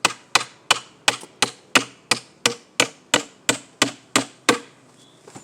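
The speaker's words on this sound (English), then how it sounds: "Just that I'm hammering" Sharp hammer strikes ring out one after another, about fourteen evenly spaced blows, loud and close, each with a short ringing decay.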